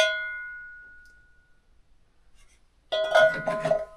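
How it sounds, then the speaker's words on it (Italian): A very old handmade bell at an alpine pasture struck once at the start, its metallic ring decaying slowly over a second or two, followed after a pause by louder clanging with a wobbly, uneven tone. "Questa è una vecchissima campana, di quelle ancora fatte di una volta, fatte a mano, che hanno un suono strano"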